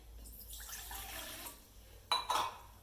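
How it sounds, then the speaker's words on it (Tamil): Water poured into a cooking pot on a home stove, a steady splashing stream that runs for a couple of seconds, then ends with a few louder splashes and clinks of the pot. "தண்ணி விடுதேன்"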